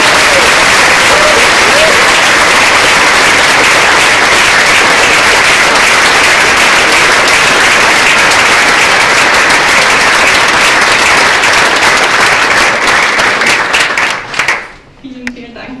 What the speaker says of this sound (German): Bitte den größtmöglichen Applaus